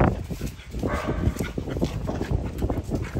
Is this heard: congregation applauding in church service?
no